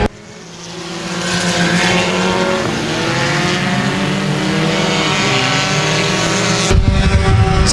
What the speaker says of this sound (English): These little cars are actually getting around the racetrack pretty quickly.